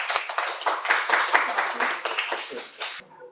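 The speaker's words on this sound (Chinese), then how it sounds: "掌声鼓励" An audience in a lecture hall gives a burst of clapping, close and fairly loud, tapering off after about three seconds.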